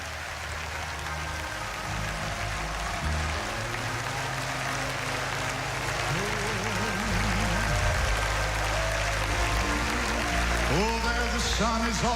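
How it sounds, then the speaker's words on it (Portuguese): A church congregation claps together while a loud organ or keyboard and singing voices carry over the top, the clapping a continuous patter beneath the music. "Dê uma salva de palmas ao Senhor."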